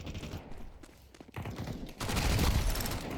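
Bursts of small submachine gun fire in a shooter video game, rapid rattling volleys that start sparse and build into a loud, sustained stream of shots.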